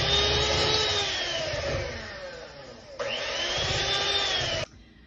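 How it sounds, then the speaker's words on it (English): An electric mixer beats a very thick cake batter on low speed with a steady motor whir and churning. It dips briefly, surges again, then cuts off near the end, with no talk. "Now we're gonna mix this on a low speed, and it's probably just gonna take about a minute."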